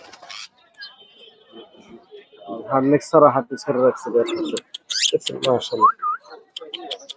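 Pigeons at the Meradia bird market give repeated throaty coos in short bursts, close and fairly loud, mixed with nearby voices and brief whistles.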